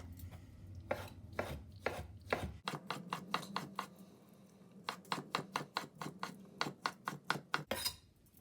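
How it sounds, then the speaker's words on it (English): A knife chops roughly through leftover tagine vegetables on a board, fast irregular bursts of sharp taps with brief pauses, close and crisp. "And I'm just going to go over these roughly with a knife."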